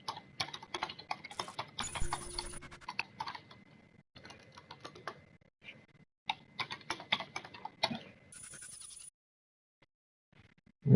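A computer keyboard clatters as a message is typed, bursts of quick close keystrokes separated by brief pauses, with no talking.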